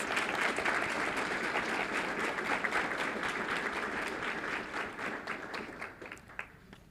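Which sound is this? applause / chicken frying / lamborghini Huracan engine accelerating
applause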